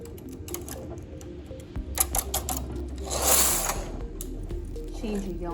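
Carriage of a domestic knitting machine sliding across the needle bed while knitting rows with tuck stitch and eyelet transfers, a steady mechanical whirring and clatter that swells mid-pass, with a person talking over it.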